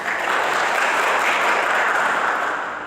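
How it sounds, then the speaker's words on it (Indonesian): A church congregation applauds its servers with sustained, dense clapping from a large crowd, holding steady for a few seconds before slightly tapering. "Tepuk tangan dulu untuk pelayan-pelayan kita."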